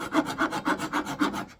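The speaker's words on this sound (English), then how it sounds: "Let's take off these dowels that I glued in." Glued-in wooden dowels are worked loose from a propagation vase, a quick series of about six rhythmic, rasping wood-on-wood rubbing strokes, close and fairly soft.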